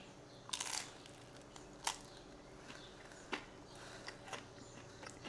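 Someone bites into a thin crust mozzarella cheese pizza with a series of faint, sharp crunches: one burst early on, then several softer crisp snaps spread across a quiet background.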